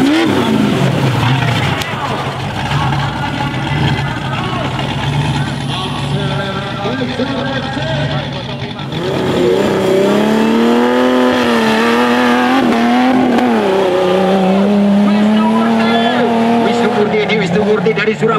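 A Cherokee rally car at a national rally round in Jember races and accelerates, its engine note rising and shifting loudly and continuously, with a commentator talking over it throughout.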